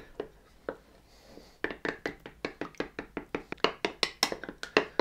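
Yogurt mixed into free-range eggs in a bowl for walnut and candied orange peel soda bread, heard as a few scattered taps at first, then a fast, steady run of sharp whisking clicks against the bowl, close and fairly loud.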